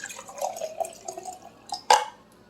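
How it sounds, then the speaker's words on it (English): Date water poured over compost, a light liquid splash and trickle with a few soft drips and one sharper splash near the end, close and fairly quiet. "Try to pour this over the compost"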